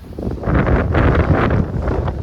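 Strong gusty wind from an incoming storm buffets the microphone in loud, rumbling surges that swell and ease over a couple of seconds on a cobblestone beach.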